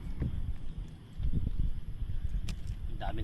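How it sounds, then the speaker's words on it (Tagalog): Strong wind blowing outdoors at a mountain camp on top of a large rock, a loud continuous rumbling gust buffeting close to the microphone, with a few faint clicks and knocks. "sobrang lakas ng hangin"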